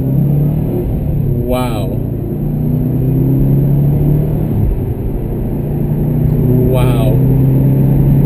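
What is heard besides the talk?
2013 Subaru WRX STI with COBB Stage 1 tune revving to redline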